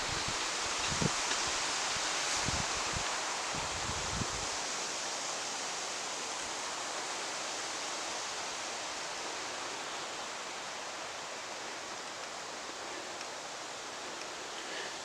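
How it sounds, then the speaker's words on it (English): Cold wind blows steadily outside a camper van, a dense, constant rushing roar that continues throughout, with a few low thumps near the start. "This wind ain't helping."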